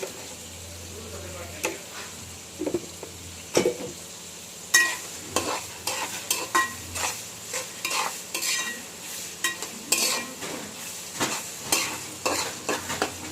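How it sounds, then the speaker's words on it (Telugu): Onion pieces frying in a pan with turmeric and salt for a fish pulusu, a steady close sizzle punctuated by repeated scraping stirs and clinks of a spoon against the pan. "ఇప్పుడు ఈ మంచిగా ఉల్లిపాయ ముక్కలు వేగనివ్వండి"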